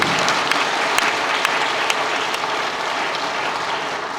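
Congratulatory applause from the gathering at a pastoral ordination ceremony, a dense steady wash of many hands clapping throughout, fairly loud and with no talk over it.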